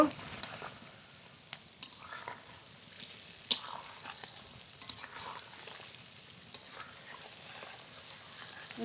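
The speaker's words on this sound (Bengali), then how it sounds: "ভালো করে ভেজে নেব এই বড়া" Palm fruit fritters (taler bora) frying in oil in a village kitchen, a soft continuous sizzle with scattered small pops and occasional light clicks, fairly quiet throughout.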